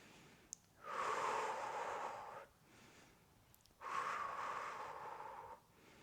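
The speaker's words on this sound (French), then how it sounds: "On respire profondément ici." Two slow, deep breaths during a yoga balance pose, each a long, close, airy exhale lasting about two seconds, separated by a quiet pause.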